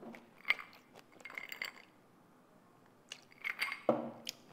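Crunchy pickles are bitten and chewed up close, with clusters of crisp crunches separated by a quiet pause and a faint clink of dishes.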